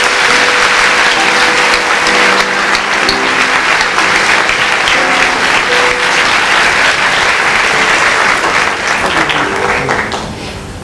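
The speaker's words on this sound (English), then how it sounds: "Could you please give him a round of applause?" A large crowd at a school moving-up ceremony applauds steadily and loudly for about ten seconds, with music playing underneath, before the clapping begins to fade.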